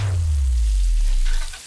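Food deep-frying in hot oil gives a steady, close sizzling hiss with a low rumbling bubble underneath, which eases off slightly at the end, and no one speaks.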